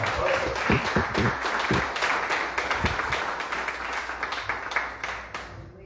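A church congregation claps for Jesus after a pastor's sermon, giving dense, steady applause that carries on for about six seconds with some voices mixed in and fades near the end.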